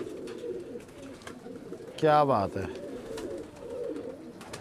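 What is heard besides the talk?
pigeons cooing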